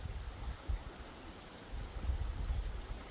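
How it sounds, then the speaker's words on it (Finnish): Soft babbling water and a light wind make a faint, steady rush with low gusty rumbles, heard alone in a quiet outdoor setting. "Solinaa ja tuulta."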